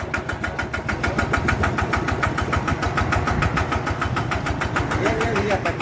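A diesel farm-machine engine running steadily with a rough, rapid knocking beat, loud and close throughout.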